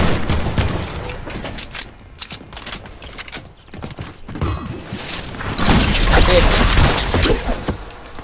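Gunfire in the video game Fortnite, loud bursts of rapid shots and impacts that come in waves over several seconds, with heavier thumps and crashes mixed in.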